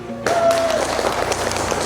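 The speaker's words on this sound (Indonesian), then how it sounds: "kita tepuk tangan dulu." A classroom of students breaks into sudden loud applause that continues as dense, steady clapping from many hands close by, with some voices mixed in.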